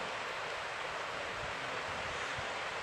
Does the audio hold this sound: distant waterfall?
yes